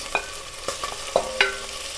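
Beef stew meat searing in olive oil in a pot, a light sizzle under a few sharp clinks and scrapes of a utensil against the pot.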